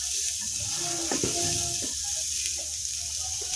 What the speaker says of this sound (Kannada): ಇಲ್ಲಿ ಈಗ ನಾನು ಕ್ಯಾಬೇಜ್ ಹಾಕ್ಕೊಂಡಿದ್ದೀನಿ. ಅದನ್ನು ಕೂಡ ಒಂದು 2 ನಿಮಿಷ ಜಸ್ಟ್ ಫ್ರೈ ಮಾಡಿಕೊಂಡ್ರೆ ಸಾಕು.